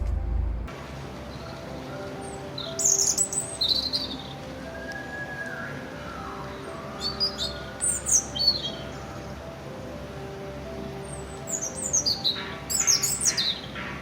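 Several birds sing and call in brief high chirping phrases over a quiet outdoor background, with soft insect-like buzzing beneath and no voices.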